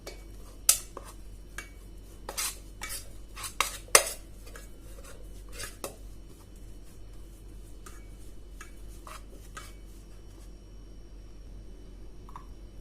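Fish fry masala is mixed with coconut oil and torn curry leaves for a Kerala-style pearl spot fry, with a utensil clinking against a dish in irregular taps, sharp near clicks early on, then softer scraping and stirring.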